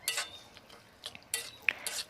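A utensil stirs coconut milk soup in a pot on a home stove: soft scraping swishes and a few light metallic clinks in short bursts, close and quiet, with no one talking.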